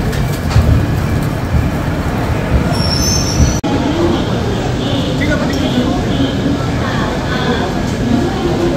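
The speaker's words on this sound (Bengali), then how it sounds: "আমাদের পদাতিক এক্সপ্রেস ট্রেন যে এসে গেছে" Padatik Express train pulling into New Jalpaiguri station, a continuous rail rumble with faint wheel squeal, close and steady, while a voice talks over it.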